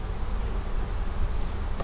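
Dense, steady buzzing of many honeybees up close at a hive, a continuous droning hum with no pauses.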